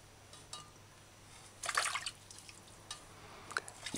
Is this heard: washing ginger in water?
yes